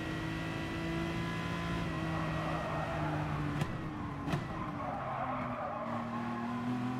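A race car in GT Sport spins a donut, tyres skidding and squealing steadily over a droning engine with small pitch shifts, loud and continuous throughout.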